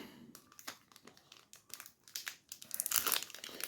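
A sealed 1991 WWF trading card foil pack being torn open and crumpled by hand, crisp crinkling and ripping bursts that grow louder and denser toward the end, close up with no talking.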